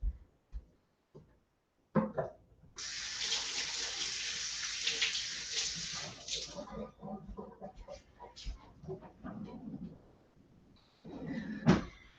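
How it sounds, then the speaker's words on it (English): Hands rinsed under a running kitchen tap, a steady close hiss of water for several seconds with splashing, after a few small knocks and followed by a brief clatter. "I'm just gonna quickly rinse my hands"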